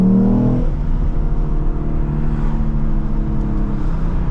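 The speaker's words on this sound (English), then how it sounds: "I never get tired of the rev limiter" A Lexus IS350 engine holds steady at high revs against the rev limiter, with a loud, continuous droning tone that stays close and alone throughout.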